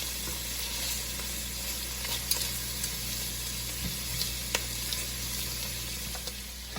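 Shrimp sizzle and fry in a hot pan while being turned over for jambalaya, a steady close crackling hiss throughout with light clinks and scrapes of the utensil.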